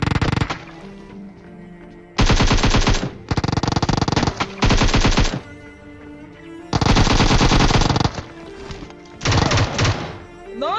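Automatic weapons fire in a battle royale video game: several loud, rapid bursts of gunfire separated by short lulls, some bursts lasting over a second.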